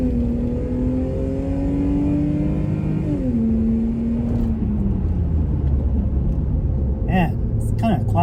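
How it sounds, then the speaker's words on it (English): A Lexus GS300 with an upgraded exhaust revs from outside the car, engine rising, then dropping and settling into a low rumble. The sound is moderately loud and fairly subdued, with a few brief clicks near the end. "let's give this exhaust a rip. See how it sounds like from the outside too."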